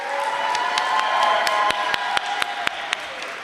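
An audience at a community symposium applauds, a broad sustained wash of clapping with sharp individual claps standing out near the microphone, the crowd sound gradually thinning toward the end.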